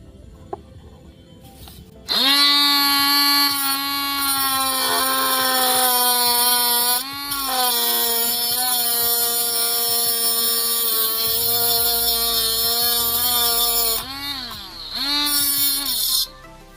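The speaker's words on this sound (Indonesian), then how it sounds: "Ini kita potong dengan menggunakan gergaji besi atau bisa menggunakan mesin gerinda" An angle grinder whines steadily cutting metal, a high, buzzing tone that wavers in pitch and dips briefly a few times before cutting off.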